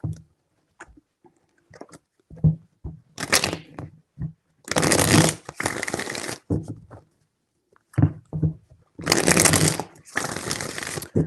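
A deck of tarot cards is shuffled in bursts of dense riffling, two long runs with short taps, slides and soft handling noises between them, close and quiet with no talking.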